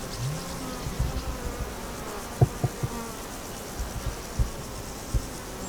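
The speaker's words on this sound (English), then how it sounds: "I'm going to be working rather close to a beehive, and the bees are very active at the minute." Bees buzz busily near an active beehive in the open, a steady droning hum with a few louder close passes and occasional soft knocks, no voices.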